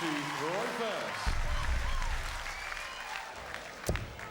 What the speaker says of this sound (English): Look at this crowd go here.